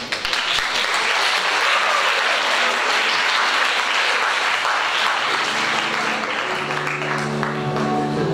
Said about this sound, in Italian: Che applaudiamo